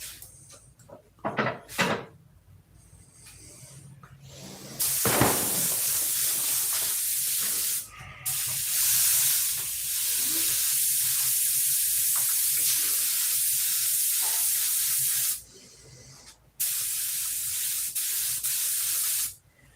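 A paint spray gun hisses in long, steady bursts over several seconds, broken by short pauses and a few clunks between passes.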